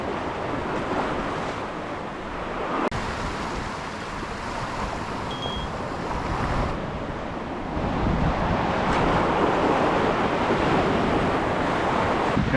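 Ocean surf washes continuously onto the coast during a saltwater fishing outing, a broad steady roar swelling slightly louder toward the end, with heavy wind buffeting the microphone.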